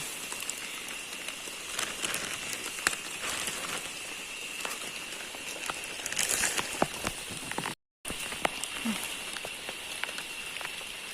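Steady rain falls outdoors around a rural squirrel-trapping spot, a dense patter of drops on surfaces that carries on evenly, broken only by a brief moment of silence near the end.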